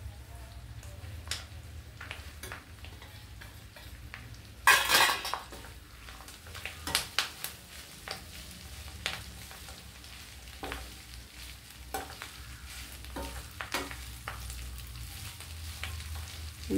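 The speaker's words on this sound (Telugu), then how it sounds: "ఇప్పుడు ఈ మునగాకు కూడా వేసేసుకుందామండి" Drumstick leaves tossed into a hot pan with potato and stirred, giving a soft continuous sizzle with scattered scrapes and clinks of a spoon against the pan, one sharp metallic clatter near the start.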